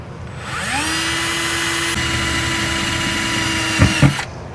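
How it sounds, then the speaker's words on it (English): A right angle drill whines steadily at high speed for several seconds while pre-drilling holes under an RV, then cuts off with a couple of brief thuds near the end. "So I had to get this right angle drill"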